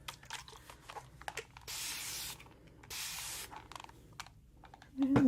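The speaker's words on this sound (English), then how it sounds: "I'm gonna spray you with this." A spray bottle mists onto hands during a close-up bridal beauty consultation, giving two short, hissing bursts amid soft rustling and tapping.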